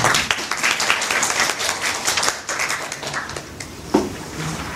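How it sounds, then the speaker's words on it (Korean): An audience at a translators' conference session claps in sustained applause, a thick, crackling wash of many hands that holds steady for several seconds before thinning out. "다시 한번 박수 한번 부탁드리겠습니다."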